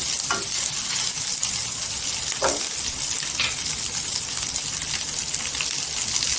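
Okra sautéing in oil in a pan over low heat for garlic masala bhindi, a loud continuous sizzle with occasional spatula scrapes and stirs.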